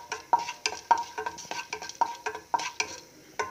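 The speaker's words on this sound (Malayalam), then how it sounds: "ഇതിലേക്ക് 1/2 ടീസ്പൂൺ ജീരകവും 1 ടീസ്പൂൺ പരിപ്പും ചേർത്ത് നന്നായിട്ടൊന്ന് വറുത്തെടുക്കാം." Cumin seeds and lentils fry in hot coconut oil in a kadai, with a series of sharp, rhythmic stirring scrapes and light crackles close by, and no voice.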